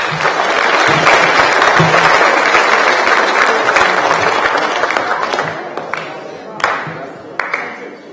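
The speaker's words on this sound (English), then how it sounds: "Let's give her a round of applause." An audience at an eighth-grade academic awards ceremony applauds a teacher. The clapping is loud and sustained, then thins to a few scattered claps near the end, with some speech mixed in.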